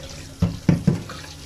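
Beetroot being washed under a running kitchen tap, the water stream splashing and gurgling close by in three short surges as the roots are turned in the flow, with no talk.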